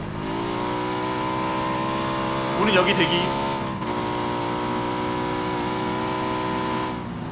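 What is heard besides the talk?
motorcycle engine revving in the video game PUBG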